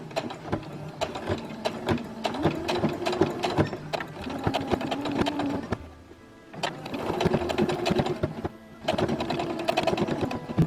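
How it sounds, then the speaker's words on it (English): A sewing machine runs a straight stitch in close, rapid mechanical bursts, briefly stopping twice before whirring on again, with no talking. "I start doing my straight stitch"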